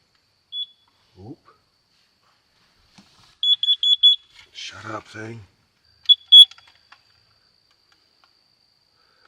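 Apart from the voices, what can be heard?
CO2 alarm beeping in a van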